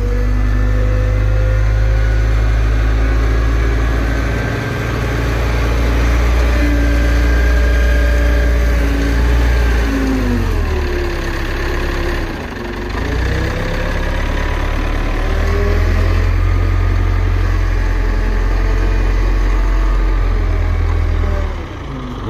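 Wheel loader turning compost runs continuously, a loud heavy diesel drone with a steady low hum and slight pitch dips as the load changes, close by and alone.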